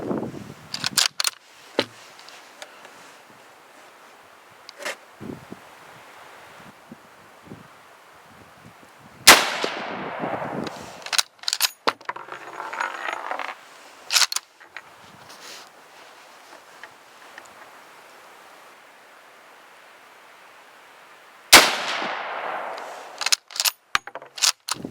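A rifle firing 7.62x54R 203 grain softpoint rounds at an outdoor shooting range, loud sharp single shots spaced several seconds apart, each with a brief echoing tail, plus quieter handling clicks between.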